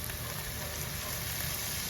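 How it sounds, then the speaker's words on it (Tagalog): Chicken frying in a pan for chicken pastil gives off a steady, moderate sizzle with a crackling hiss throughout, and no voices are heard. "Habang fry po natin yung chicken,"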